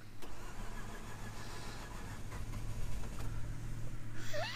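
Mazda RX-8 rotary engine cranking fast over and over as it tries to start, a close, steady whirring drone through the whole stretch, with no speech.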